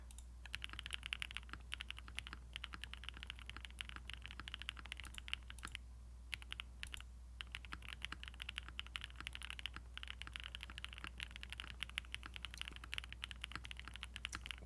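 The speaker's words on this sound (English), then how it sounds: "Sounds like a keyboard." Quiet, steady typing on a 60% mechanical keyboard with linear switches and a plastic tray case, soft rapid clacks in an even flow with a brief pause midway.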